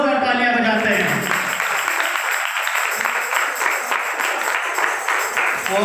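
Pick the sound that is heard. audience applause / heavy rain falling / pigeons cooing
audience applause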